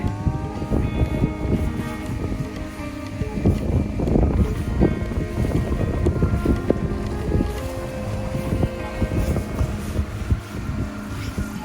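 Strong wind roars steadily, with tent fabric flapping and rattling in irregular gusts throughout, no voices.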